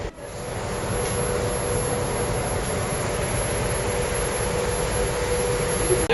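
Luxury train running to Cusco, a constant rumbling rail noise with steady broadband hiss and a faint hum, held at even loudness throughout with no talk.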